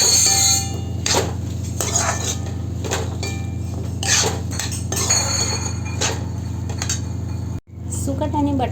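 A spoon clinks and scrapes against a metal pan as dried fish (sukat) and potatoes are mixed together. The close, repeated metallic knocks come in an uneven rhythm over a steady background hum.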